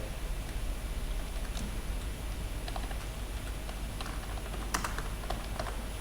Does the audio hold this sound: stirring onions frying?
no